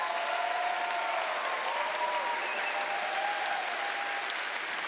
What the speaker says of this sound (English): Let's thank them with a loud round of applause for all of their work on your behalf.